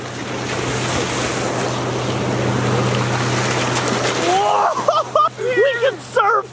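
Big ocean waves wash and roar loudly and steadily beside a pirate island, the surf rumbling continuously with wind, before excited voices break in near the end.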